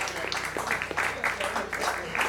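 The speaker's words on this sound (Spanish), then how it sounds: "Un aplauso para la pareja." An audience applauds a dancing couple at a live band concert in a brewery, Cervecería Brújula, with a steady patter of clapping running under a voice talking.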